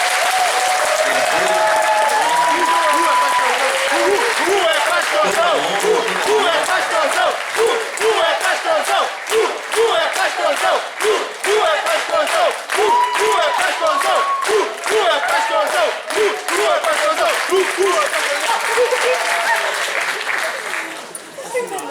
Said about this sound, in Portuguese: Vamos dar uma salva de palmas em nome de Jesus.